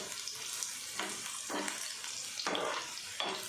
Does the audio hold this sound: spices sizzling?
yes